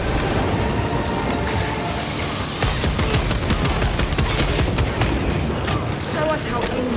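Frag grenade blast and sustained gunfire in the Space Marine 2 video game, a loud, dense battle din of rapid shots and booms that never lets up across the clip, with voices mixed in.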